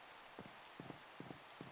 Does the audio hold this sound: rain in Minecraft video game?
yes